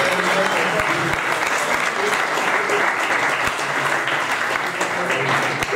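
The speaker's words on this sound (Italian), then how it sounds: "quindi un applauso per voi." An indoor audience at a book presentation applauds students, a dense, steady burst of clapping lasting several seconds with a few louder individual claps standing out.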